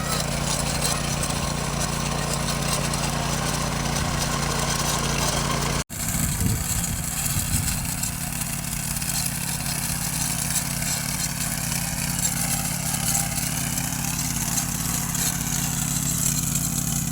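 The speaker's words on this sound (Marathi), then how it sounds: "कसं वाटलं ट्रॅक्टर फिरवून?" A tractor engine runs in a rice field during sowing in Konkan, a loud continuous mid-pitched drone that cuts abruptly partway through and resumes as a steady rumble.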